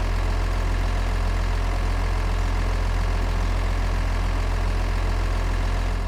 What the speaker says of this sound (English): leave the engine running. I want him to hear the majestic sound